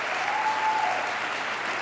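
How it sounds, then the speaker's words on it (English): Audience applause at a Martin Luther King Jr. themed talk, a steady dense clapping from a large crowd that holds evenly through the whole stretch without voices. "Everybody applaud this person."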